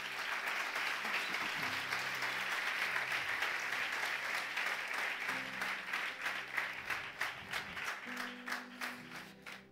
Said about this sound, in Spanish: ¿Cuánto da un aplauso fuerte a Él?